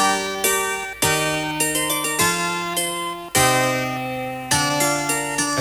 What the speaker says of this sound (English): here is the sound of a 12-string guitar,